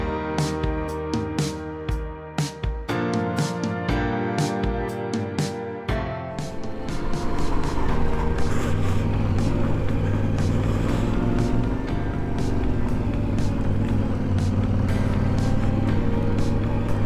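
A Yamaha Ténéré 700 motorcycle climbing a mountain road near Mont-Blanc, the engine blipping in short revs before settling into a loud, sustained pull as it accelerates uphill.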